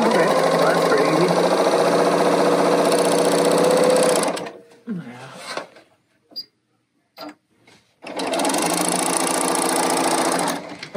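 An L890 serger sews a rolled hem in two fast, whirring runs of rapid ticking stitches. A pause with a few small clicks separates the runs.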